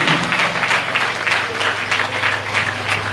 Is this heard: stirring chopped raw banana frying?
no